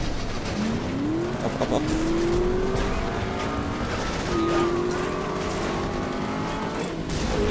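A car in the game Saboteur accelerates hard, its engine note climbing in rising whines through repeated gear shifts, loud and close, with someone speaking briefly over it.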